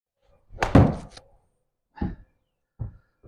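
A golf ball struck out of the rough at Pebble Beach with a 52 degree wedge: one dull thump with a rustle, followed by two softer thuds, with no talk.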